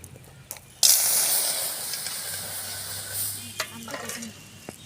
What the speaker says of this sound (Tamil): பாலை ஊற்றிடலாமுங்க.